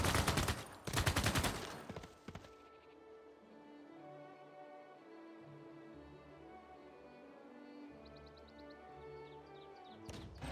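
Civilization VI units opening fire on a cavalry unit, a loud volley of rapid gunshots over the first two seconds, then a quiet musical score playing on alone.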